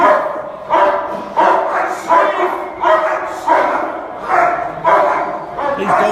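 Dogs bark repeatedly in a steady rhythm, about eight loud barks close by, with some yipping mixed in.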